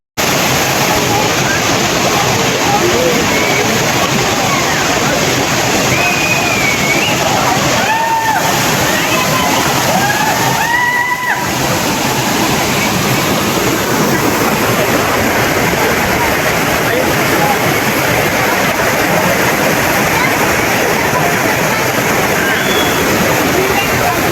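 A steady, loud roar of a waterfall fills the whole clip, broad and continuous, with a few brief voices and whistles faintly over it.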